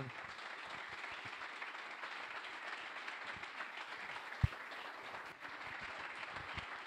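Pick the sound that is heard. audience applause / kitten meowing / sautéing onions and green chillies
audience applause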